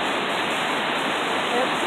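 Water rushing at Minnehaha Falls waterfall, a steady dense roar filling the scene, loud and close, with faint voices underneath.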